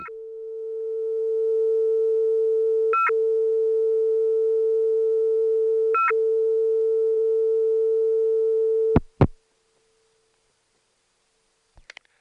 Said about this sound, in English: It sounds like a touchtone computer.